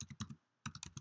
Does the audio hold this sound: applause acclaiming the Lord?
no